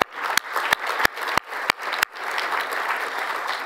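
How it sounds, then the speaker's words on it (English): Conference audience at a climate and health plenary gives a round of applause, steady dense clapping that fills the room, with several sharp louder claps standing out early before settling into an even wash. "So if you will join me in a round of applause."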